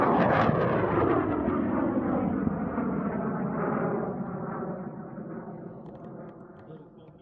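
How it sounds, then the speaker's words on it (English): A high-power Aerotech N4000 model rocket motor ignites and roars off the pad with a loud, broadband rush that holds steady for several seconds, then slowly fades and thins as the rocket climbs away. "We're flying the new Aerotech in 4000, and we're going in 5, 4, 3, 2, 1, launch"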